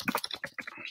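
Quick clattering keystrokes on a computer keyboard as a search is typed into Google, a close, rapid run of about eight or nine clicks within one second.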